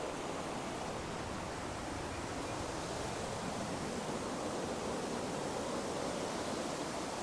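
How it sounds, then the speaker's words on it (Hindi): Waterfall at the start of the Valley of Flowers trek in Uttarakhand, a steady broadband rushing roar heard from some distance, even and unbroken throughout with no voices. "स्टार्टिंग में ये वाटरफॉल आपका स्वागत करता है"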